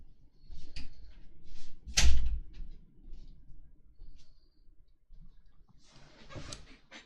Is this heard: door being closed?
yes